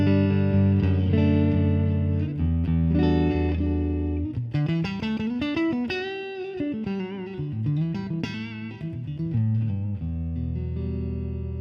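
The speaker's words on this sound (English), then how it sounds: "my clean tone through a Roland Jazz chorus sounds like this" An electric guitar on its neck pickup plays a clean, clear tone through a Roland Jazz Chorus amp: sustained chords, then a run of plucked single notes, then more ringing chords. Nobody speaks.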